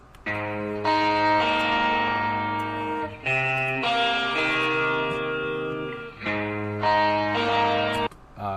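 Distorted electric guitars ring out in layered sustained chords with heavy effects, in three long phrases separated by brief breaks, loud and alone.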